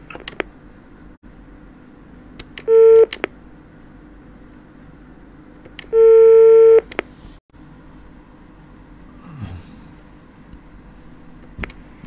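Telephone dialing tones on a phone call: two bursts of sharp electronic beeps, a short one and then a longer one, loud against a quiet hissing line with a few clicks.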